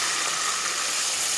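Masala spice paste frying in a pan for a fish gravy, a short, even hiss and sizzle heard close up with no voices.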